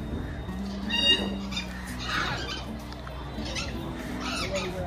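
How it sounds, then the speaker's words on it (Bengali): Scarlet macaws at Alipore Zoo in Kolkata let out a few harsh, loud squawks over a background murmur of visitors' voices. "তো এগুলোর নাম স্কারলেট ম্যাকাও।"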